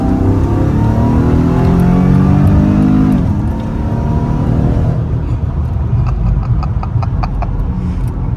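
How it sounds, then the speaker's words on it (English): A Mercedes E55 AMG accelerates hard at full throttle, its engine note rising loud and close through the gears, followed by a shift and a quieter stretch of rushing road and wind noise. "Actually, let's do a full throttle right now."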